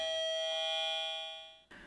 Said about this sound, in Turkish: Şimdi kapı zili lazım bize. 2 tane pillen çalışıyor